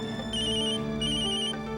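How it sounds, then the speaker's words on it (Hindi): A mobile phone's incoming-call ringtone plays in two short repeated melodic bursts over a low background hum. "नैतिक मुझे फोन क्यों कर रहे हैं?"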